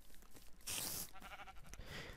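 Sheep bleating inside a modded Minecraft-style block game, with a couple of wavering bleats rising over steady in-game background noise.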